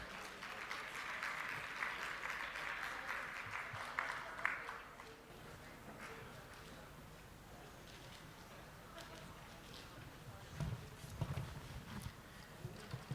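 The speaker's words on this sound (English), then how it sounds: "Can we please give a round of applause for our speakers?" Audience applause for conference speakers at a panel event on mental health and inclusion, a steady patter of clapping from a room of people, moderately faint, thinning out partway through amid background room noise and stray sounds.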